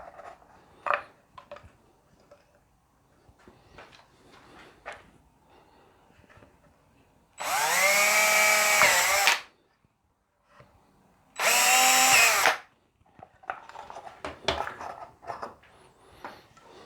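A power drill fitted with a 10mm FAMAG bit bores pot-shaft holes in a TV yellow Les Paul Junior guitar body, two loud sustained bursts of drilling separated by a pause, with quieter handling clatter around them.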